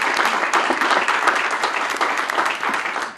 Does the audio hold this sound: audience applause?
yes